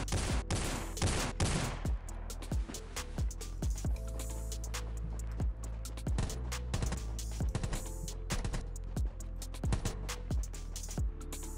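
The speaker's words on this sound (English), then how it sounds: "Okay, I just heard shots over here." Rapid bursts of gunfire from the Rules of Survival battle game, a loud opening volley followed by a steady run of sharp shots that keep cracking at irregular close intervals with no talk over them.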